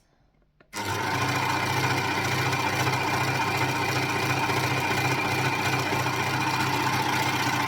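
An overlocker runs continuously after a brief quiet start, stitching fabric for a rash vest while its blade trims the excess edge, a loud steady mechanical whir with fast even pulsing and no talk.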